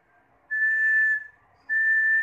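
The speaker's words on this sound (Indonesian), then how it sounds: "kayak orang siul" A person whistles two clear, steady held notes close by, with a short pause between them, shaping the lips as for blowing a suling bamboo flute.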